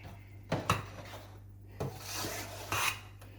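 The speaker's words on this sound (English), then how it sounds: "That means you're gonna mix and cut at the same time." Sweet potato pudding batter for a Jamaican pudding being mixed and cut with a utensil, heard as a few close, rasping scrapes in an irregular rhythm against a quiet background, with no talking.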